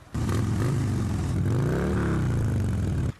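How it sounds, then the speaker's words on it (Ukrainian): A 2012 motorcycle engine runs close by and loud, its throaty mid-range tone rising and falling as it revs for about three seconds before cutting off, with no talking. "На тест-драйв Геннадій приїхав на власному мотоциклі, але зразка 2012"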